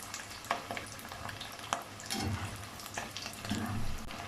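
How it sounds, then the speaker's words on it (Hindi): Samosas fry gently in oil on low heat while a spoon stirs them, giving a soft continuous sizzle broken by occasional clinks and scrapes. "अब इसे हल्की आंच पर दोनों साइड से गोल्डन करते हुए 5 मिनट तक पकाएंगे।"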